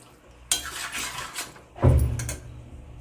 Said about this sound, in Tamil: இப்போ நல்லா பிரட்டி விட்டுட்டு இதை கொஞ்சம் கொதிக்க வைப்பேன்